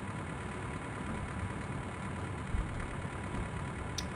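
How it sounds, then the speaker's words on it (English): Train engine in the game Lighthouse, a fairly quiet, steady low mechanical rumble like an idling motor, continuous throughout with a couple of small knocks. "I want you to go forward, stupid train."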